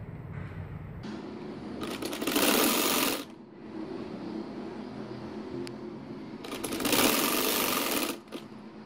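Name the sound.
sewing machine stitching a poncho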